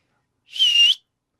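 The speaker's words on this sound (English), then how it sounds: "can you still whistle? Not well. I can try it." A single short whistle from a person, about half a second long, clear and fairly loud against silence, slightly wavering in pitch.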